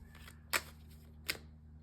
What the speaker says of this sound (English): let me just shuffle these a bit